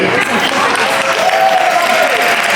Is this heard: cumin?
no